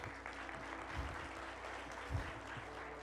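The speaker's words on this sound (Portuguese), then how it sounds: "Uma salva de palmas para essa família linda." Congregation applauding a family during a Portuguese-language family church service, a steady dense patter of many hands clapping throughout, moderately loud with no voices on top.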